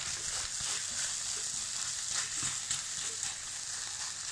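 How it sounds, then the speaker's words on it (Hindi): Kebabs are stirred into onion gravy in a pan for a Kashmiri kebab dish cooked without oil, giving a soft, steady sizzle with faint stirring scrapes, fairly quiet and close. "अब मैं इसमें कबाब डाल रही हूँ, मिक्स कर दिया मैंने।"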